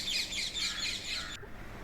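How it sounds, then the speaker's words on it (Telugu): A flock of parrots screeches and chirps in fruit-laden trees, a dense, shrill chatter that cuts off abruptly near the end. "చెట్ల నిండా చిలుకలే"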